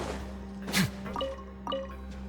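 Water drips in a video game, a few distinct droplet plinks spaced about half a second apart over a steady ambient hum, fairly close and clear.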